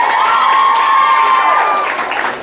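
A bat mitzvah party crowd in a hotel courtyard cheers and applauds loudly at close range, with whoops and shouting voices that start strong and fade slightly near the end.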